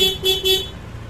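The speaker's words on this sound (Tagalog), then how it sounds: "Busina, PIAA." A PIAA aftermarket horn fitted to a Honda Beat FI scooter blares three short, loud toots in quick succession, then cuts off and leaves low background hum.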